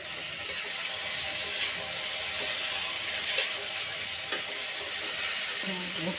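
Cubed potato and pumpkin fry in a pan for a Bengali pumpkin dish, a steady close sizzle with occasional scraping clicks of a spoon stirring, running alone without talk.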